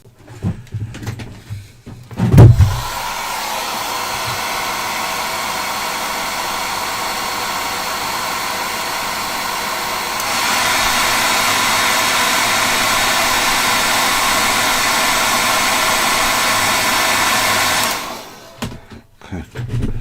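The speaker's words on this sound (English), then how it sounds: "Let's give her a little hairdryer." A hair dryer blows on a painted miniature, a loud continuous whooshing whir that starts abruptly, steps up in intensity partway through, then cuts off, with faint handling sounds before and after.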